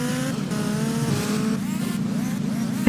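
A smoking motorcycle in GTA Vice City revs with rising and falling engine whines, layered over steady game engine drone, with quick pitch sweeps and a sharp burst at the end.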